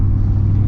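A V8 Jeep with an AEV kit and its exhaust valves open gives a deep, loud, steady rumble up close, with no voices over it.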